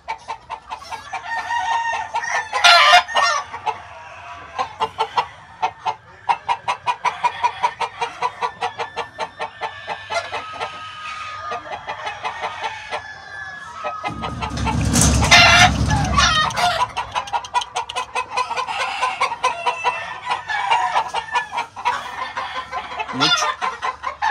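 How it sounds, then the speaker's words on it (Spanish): A Lazy Roundhead gamecock and two Claret hens give repeated clucks and crows at close range, with one loud, drawn-out crow near the middle, over steady farmyard background. "Este viene siendo un gallo Lazy Roundhead con dos gallinas"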